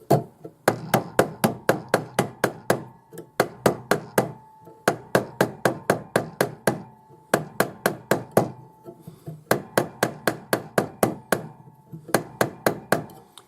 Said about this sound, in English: just shift your hammer so that you're hammering against the side